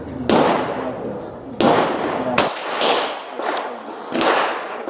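Reloaded 5.7x28 rounds fired over a chronograph, several sharp loud gunshots spaced about a second apart, each with a brief echoing tail.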